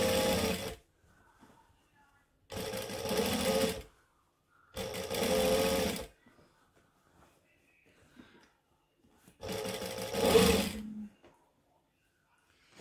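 A home sewing machine stitches a dress seam from a McCall's M7281 pattern in four separate loud bursts of about one to two seconds each, with quiet pauses between, and no talking.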